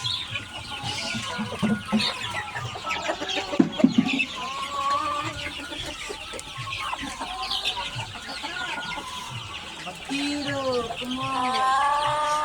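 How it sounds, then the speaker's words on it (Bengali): Chickens cluck and chatter continuously nearby, several birds overlapping, with a few louder squawks and some background talk mixed in. "গাইস এখানে মুরগিগুলো সুন্দর।"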